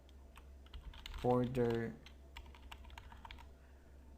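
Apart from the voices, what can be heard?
typing on computer keyboard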